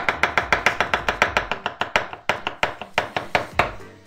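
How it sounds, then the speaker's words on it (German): A knife chops a mushroom on a cutting board in quick, even strokes, about twenty crisp close taps that slow slightly toward the end. "Und den hacken wir dann einfach klein."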